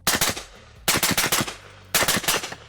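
A Honey Badger rifle fires three quick bursts of several rapid, loud, close shots each, separated by short pauses.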